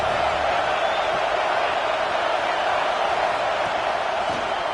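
Roaring football stadium crowd on third down, a dense, sustained wall of noise that is loud and unbroken throughout, with no distinct voices standing out.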